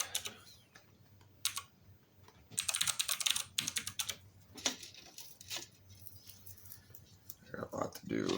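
Someone types a Linux update command on a computer keyboard, with bursts of quick, close keystrokes that pause and restart while a person talks.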